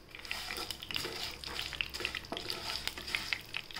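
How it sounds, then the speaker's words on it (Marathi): Fenugreek seeds frying in hot oil with mustard seeds, for a sweet-sour raw mango pickle: a steady close sizzle with faint crackles and occasional stirring scrapes throughout. "मेथ्या आपण आता छान थोडंसं तळून घेऊ तेलात।"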